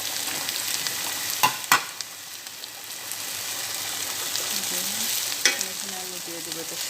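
Potatoes and bitter gourd sizzle steadily in an oiled pan, a continuous frying hiss with a few sharp stirring clinks near the start and middle, close and moderately loud with no talk.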